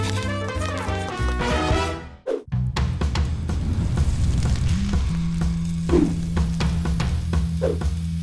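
Seafood stir-fries in a very hot wok set on an outdoor grill, a steady loud sizzle with clattering stirring and tossing, under background music and no speech.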